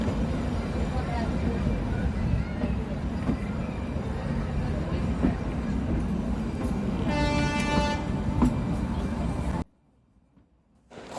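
The Kalka-Shimla narrow gauge toy train in North India rolls along with a loud, steady rumble of wheels and carriages, a horn sounding briefly near the end before the noise cuts away to near silence.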